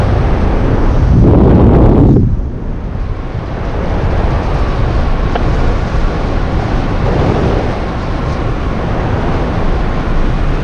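Strong wind buffets the microphone while paragliding in loud, roaring gusts, easing slightly after a few seconds but rushing continuously throughout.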